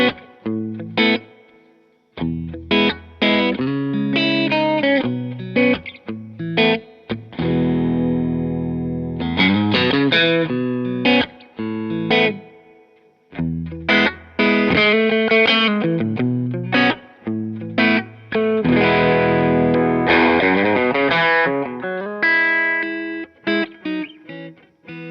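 Distorted Jazzmaster electric guitar plays chords and phrases with short pauses between, drenched in amp reverb and a boosted, saturated tone; no talking.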